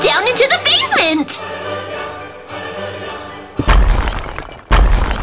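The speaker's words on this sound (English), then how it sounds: "He's destroying the iron bars." In the Minecraft horror game, cursed Santa smashes through iron bars with two loud, heavy crashing impacts near the end, after excited talking and game sounds.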